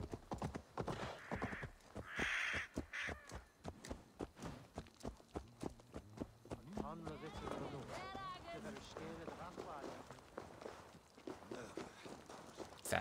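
Horse hooves clip-clop steadily in the video game Assassin's Creed Valhalla, a regular walking rhythm of fairly close hoofbeats running beneath frequent talking and game music.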